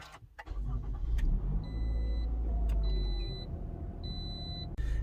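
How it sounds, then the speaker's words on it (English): A 2018 Toyota RAV4 engine cranks and catches, then idles with a low steady rumble while three evenly spaced electronic beeps sound over it. "So I'm just going to turn on the car now."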